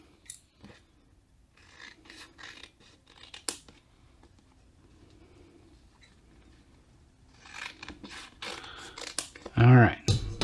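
Scissors snipping through a vinyl decal sheet for a DJI Mavic Air 2 drone battery, soft close cuts and rubbing, with a louder cutting burst near the end.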